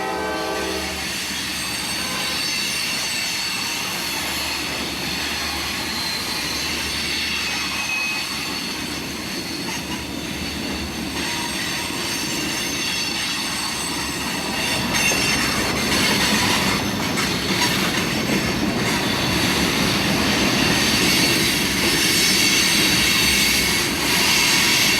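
Loaded freight hopper cars grind around a sharp curve near the Plant City diamond, their wheels shrieking in high, sustained squeals over a rumbling roll that grows louder and denser in the second half, with a horn early on.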